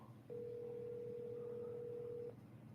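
A single steady telephone tone sounds for about two seconds at moderate level over a low background hum, as when a phone call is being placed and rings out.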